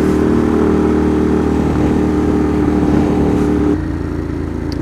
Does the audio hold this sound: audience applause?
no